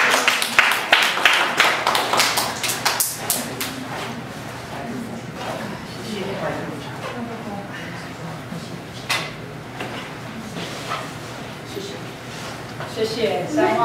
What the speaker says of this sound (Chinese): 我们一起拍手欢迎 Lorri 到我们当中。